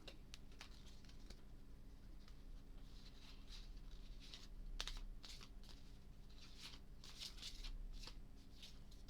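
A deck of cards being shuffled during a tabletop session of the Arkham Horror card game, soft quiet riffling and patting in short irregular bursts close to the mic, with no talking.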